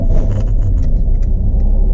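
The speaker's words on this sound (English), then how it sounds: "Okay, ready for an awesome cold start?" A Pontiac Fiero engine idles close by after a cold start, with a steady, loud low rumble that holds evenly throughout and no voices.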